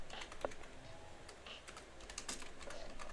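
Quick, fairly faint clatter of typing on a computer keyboard, irregular bursts of keystrokes with brief pauses and no talk over it.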